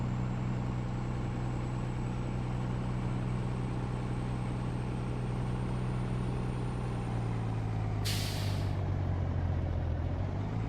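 A farm tractor in Farming Simulator 19 pulling a Great Plains planter across a field, its engine a steady loud drone that shifts pitch partway through, with a brief hissing burst near the end.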